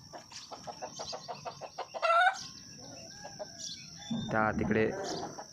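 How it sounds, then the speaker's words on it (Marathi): A rooster and hens cluck in quick, repeated bursts nearby in a village in the morning, then a louder squawking call rises, with a person briefly speaking and a faint steady tone behind. "इकडं कोंबडा कोंबडी पण आलेले आहेत"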